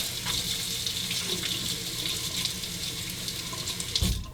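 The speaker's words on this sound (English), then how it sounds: "Let's rinse that off." Water from a running tap splashes steadily as a 3ONE6 razor is rinsed under it, a continuous close hiss with a brief clatter near the end.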